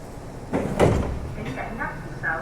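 Doors on a Hong Kong MTR Light Rail tram slide shut with a clattering mechanical thud, close by, followed by a short chime-like tone and faint speech-like sounds.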